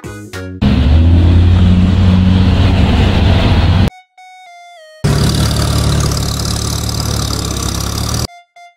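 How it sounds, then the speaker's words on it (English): A mail van's engine idles in two bursts with a low rumble, separated by a short stepped electronic tone sequence, with a similar chime at the end. "Mail van."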